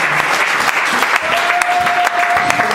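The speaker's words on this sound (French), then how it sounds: "Nous pouvons acclamer encore très fort pour le Seigneur" A church congregation applauding loudly at a worship service, sustained clapping with a crowd murmur and a sustained sung or spoken tone rising through the middle.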